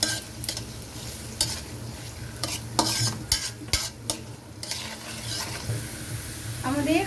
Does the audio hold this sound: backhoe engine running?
no